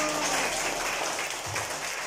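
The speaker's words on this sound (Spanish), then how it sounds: "un aplauso para él" Guests applaud at a first birthday party, a continuous wash of clapping that stays even and close for a couple of seconds, with no talk over it.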